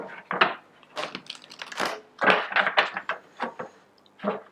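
Tarot cards being shuffled close up in a run of quick papery riffles and taps with short pauses between bursts, and no talk over them.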